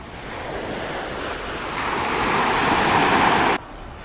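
Steady ocean surf rushes and swells at Quy Nhon, Vietnam, building louder toward the end with wind buffeting the microphone, then cuts off abruptly.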